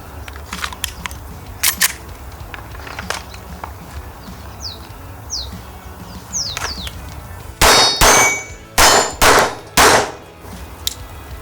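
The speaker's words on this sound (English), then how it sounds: "we're now going to do what this Glock 44 is really intended, and that's to have a little bit of fun shooting a couple of plates" Glock 44 pistol shots ringing off steel plates outdoors, with several sharp clangs early on and then a tight cluster of four loud, close hits near the end.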